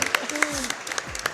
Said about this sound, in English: Give a clap for him.